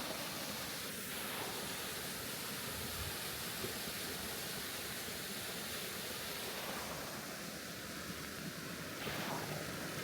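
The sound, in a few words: waterfall in the Thai jungle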